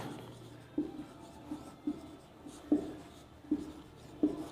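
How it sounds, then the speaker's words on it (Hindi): A teacher writes on a classroom board during a physics lesson on magnetism, with regular scratchy strokes and taps about once a second, fairly close and alone without talk. "तो मैं यहां लिखता हूं चुंबकीय प्रवृत्ति"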